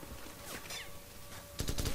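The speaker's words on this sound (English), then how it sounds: "I still can hear gunshots" Faint, distant gunfire in Call of Duty 4: Modern Warfare crackles through a noisy background, a scattered spatter followed by a louder rapid burst near the end.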